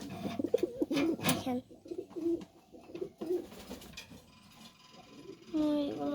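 Fantail pigeons cooing in soft, repeated low throaty calls, close by, mixed with voices talking over them.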